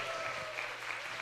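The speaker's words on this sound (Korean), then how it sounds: "그 하나님께 영광의 박수, 함성과 함께 박수." A church congregation at a 50th-anniversary revival service applauds in a dense, continuous wash of clapping, fairly faint and heard briefly with no distinct cheering standing out.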